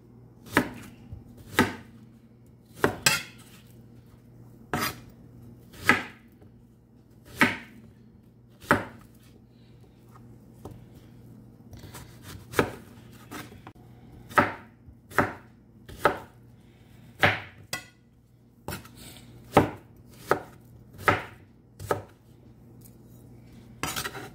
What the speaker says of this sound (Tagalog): After mabalatan ng saging, ay hihiwain lang natin ito ng pahaba.